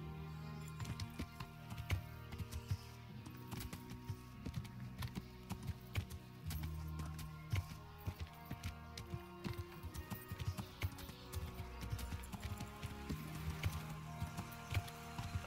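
Horse hooves in the video game Kingdom Come: Deliverance keep up a quiet, steady clip-clop rhythm on the ground, faint and continuous throughout with no voices.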